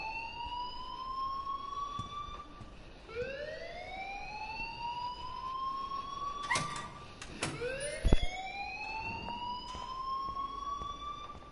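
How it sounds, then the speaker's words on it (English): An alarm in the video game Life is Strange wails in repeated rising sweeps, each tone climbing and holding before restarting, loud and continuous with a couple of sharp knocks midway. "please turn off that alarm since that's your job"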